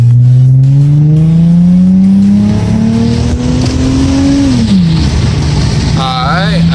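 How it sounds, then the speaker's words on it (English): A 2004 Toyota Avalon XLS accelerating hard with its tires spinning, heard from inside as a loud engine drone that rises steadily in pitch, then drops as it shifts, with a brief squeal near the end and talking over it. "And I'm gonna spin my tires."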